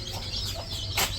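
A backyard chicken sitting alone in a bucket gives short clucks close by, with a sharper burst near the end over faint steady background noise.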